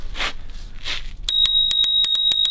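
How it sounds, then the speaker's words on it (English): A bicycle bell rings in a rapid series of bright, clear metallic dings, loud and close, following two soft breathy swishes with no talking. "It comes with a bell."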